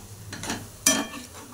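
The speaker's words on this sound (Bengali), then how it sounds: "এবারে আমি নেড়ে নেব, ভালো করে আমি নেড়ে নেব।" Salted spice mix being stirred in a pan while cooking chicken biryani, a few scraping strokes and one sharp metallic scrape over a faint sizzle, close and short with no talking.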